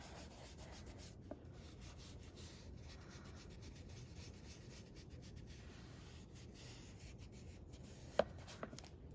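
Distress Oxide ink is rubbed into paper during a coloring session, a faint, steady scratchy rubbing with a couple of light taps, no talking.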